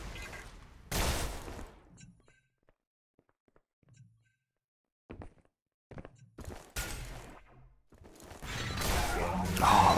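Gunfire in the arena shooter Xonotic during a one-on-one duel: a loud burst of shots opens, a quiet stretch of scattered clicks follows, then several sharp shots lead into a sustained roar of weapon fire at the close.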